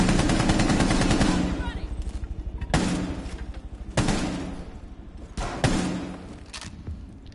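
Video game gunfire opens with a loud, fast automatic burst, then breaks into three separate sharp single shots, each followed by a short decaying tail.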